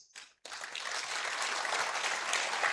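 Audience applause at a university awards ceremony, a Provost's Awards event, swelling after a brief voice and settling into a sustained, even clapping roar that continues loud to the end.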